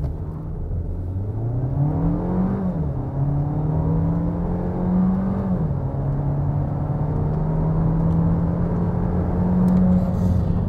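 A 2022 Skoda Octavia accelerates hard from 0 to 100 km/h: a steady engine drone climbs in pitch, drops at two gear changes and climbs again, heard from inside over continuous road and wind noise.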